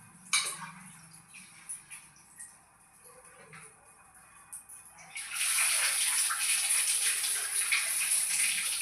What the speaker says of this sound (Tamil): அரிசியை வாங்கி நல்லா 4-5 தடவை களையணும்.